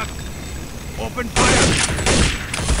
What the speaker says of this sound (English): We are taking fire from the tunnel.